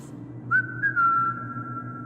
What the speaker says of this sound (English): from the darkness I hear a whistle.